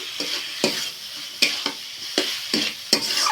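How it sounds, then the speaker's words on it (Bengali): Fried pointed gourd pieces tossed into a sizzling spiced masala for potol kosha, with a steady hiss broken by several sharp scraping stirs of a spatula against the pan, close and fairly loud. "এবার ভেজে রাখা পটলগুলো দিয়ে দিচ্ছি"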